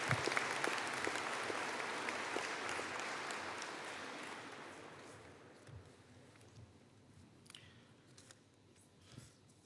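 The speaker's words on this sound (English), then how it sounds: "could I please have a collective round of applause for Russell as he returns to his seat" Applause from the audience at a university engineering and informatics graduation ceremony, a dense burst of clapping that is loud at first and then slowly thins and fades over about ten seconds, with a few scattered claps left at the end.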